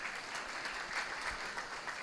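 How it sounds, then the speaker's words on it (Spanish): A crowd claps in sustained, dense applause, heard at a moderate distance with no voices over it. "vamos a darle un aplauso a ella"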